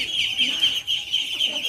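Chinese duck ducklings beside their mother give rapid, close, high-pitched peeping calls in a continuous chattering stream by a farm pond.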